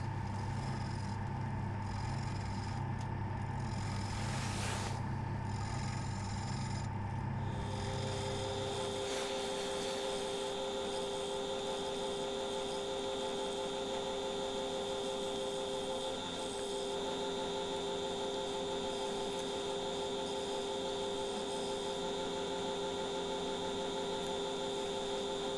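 A wood lathe spins a walnut bowl blank during hollowing, giving a steady motor hum with sustained tones throughout and a rougher, noisier cutting texture in the opening seconds that settles into a smoother drone. No one speaks.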